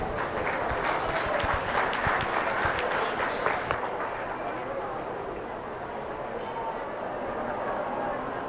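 Audience applause at a 4-H/FFA beef steer show, a sustained round of clapping from the crowd that swells early and slowly tapers off, with no one speaking.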